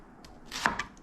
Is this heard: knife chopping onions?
yes